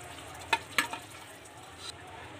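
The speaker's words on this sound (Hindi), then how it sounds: "अब ऐड करेंगे हम इसमें भिंडी" Okra being added to yogurt masala in a hot pan: a soft, steady sizzle with a couple of quick clatters as the pieces drop in early on, fairly quiet and with no talking.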